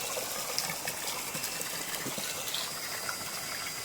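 Water from a solar-powered pump gushing steadily into a tank under a cloudy, lightly sunny sky in Bangladesh, a continuous close rushing flow with no voices.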